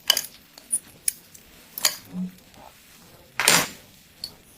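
A spoon scrapes and clinks against a pot in sharp, scattered knocks while meat is stirred into a sauce, with quiet pauses between the strokes.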